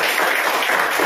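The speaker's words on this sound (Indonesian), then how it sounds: "Jadi kita beri aplaus buat kelompok Aljabar yang telah mempresentasikan." Classroom applause for a student group that just presented, a dense, loud wash of many hands clapping together with no pauses, filling the whole short moment.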